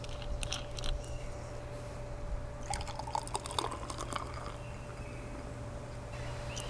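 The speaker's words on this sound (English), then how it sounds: "I'm going to pour myself a nice drink." Cold drink being poured into a glass on a hot day, a soft liquid trickle and splash in the middle of the clip over a steady low hum, with no talking.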